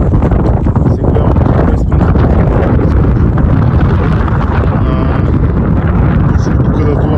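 Strong wind roars across an exposed mountain ridge in bright sun, a loud, unbroken rushing blast buffeting the microphone for the whole stretch with no pauses, drowning everything else out.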